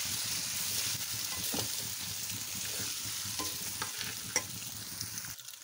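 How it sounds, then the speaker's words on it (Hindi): Boiled pasta mixed into cooked chicken in a pan for red sauce pasta, a soft steady sizzle under a few light spoon knocks and stirring scrapes, fading out at the end. "तो अब इसमें पास्ता डाल दें। मिक्स करें।"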